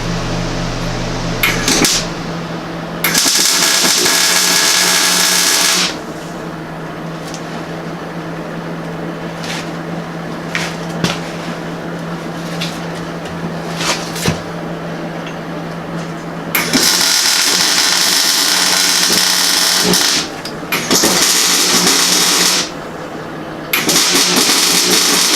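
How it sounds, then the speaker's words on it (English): A welder tacks axle brackets onto a Model A shop truck rear end, with several loud bursts of harsh, crackling hiss broken by quieter gaps in a workshop. "I think it's time to get the welder out and tack these axle brackets on here"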